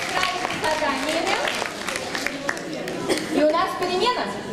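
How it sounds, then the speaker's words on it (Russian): Clapping from two school classes of children fills the room on Teachers' Day, steady and dense, with young voices chattering over it throughout. "аплодисменты нашим двум классам"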